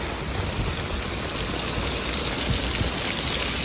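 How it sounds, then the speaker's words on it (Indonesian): Heavy rain pours down during a flood in Hong Kong, a dense, steady roar of hissing water that is loud and close, with no break throughout. "Hujan mulai gede banget."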